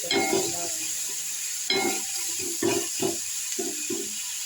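Onions sizzling in oil in a pan for egg curry, a steady frying hiss with repeated scraping stirs of a spatula at an irregular rhythm, close by.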